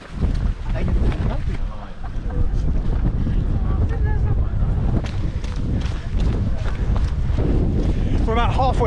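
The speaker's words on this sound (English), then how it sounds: "it's very blustery indeed" Strong gusty wind buffets the microphone halfway up Whernside in the Yorkshire Dales, roaring loud and constant with surging gusts, while a voice speaks intermittently beneath the blustery noise.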